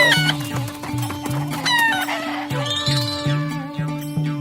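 A chicken clucks in steady, repeated bursts close by, with a rooster crowing partway through and other birds chirping faintly in the background of a farmyard setting.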